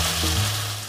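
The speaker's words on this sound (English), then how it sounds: "Sizzling bacon," Sizzling like bacon frying in a pan, created as a sound effect by dropping rice into a pan: a brief, dense, steady hiss, close and loud, with no voices.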